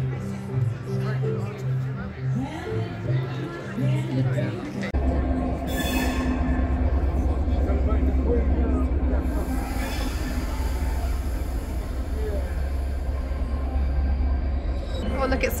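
A posh passenger train with a carriage designed by Wes Anderson rolls along the tracks, its low, steady rumble and rattling wheels starting partway through and continuing to the end, with faint voices in the background.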